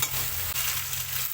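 Ginger paste and spices fry in hot oil in a pan, giving a loud, continuous close sizzle with a brief dip as the mixture is stirred.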